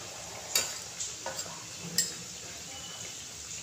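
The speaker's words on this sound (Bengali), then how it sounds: "দেখো, একটা একটা করে সিঙাড়া আমি তেলের কড়ায় দিয়ে দিচ্ছি" Samosas slipped one at a time into a pan of hot oil, with a steady low frying hiss and a few sharp sizzle bursts as each piece goes in, close and fairly quiet.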